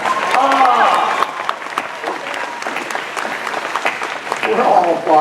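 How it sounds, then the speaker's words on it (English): Audience applause at a Star Wars Weekends talk show with cast stars, a loud, dense wash of clapping with cheers and voices mixed in, swelling again near the end. "We're all applauding that"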